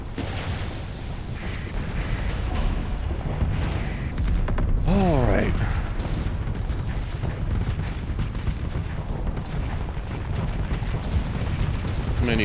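Reflecting bullets in the Starsector space combat game fire in a dense, rumbling barrage of booms and mechanical clatter, with a short whooshing sweep midway and a voice talking faintly underneath.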